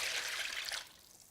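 Two cups of chicken stock pour from a measuring cup into a pot, a short bright rushing splash that stops abruptly about midway, with no one talking.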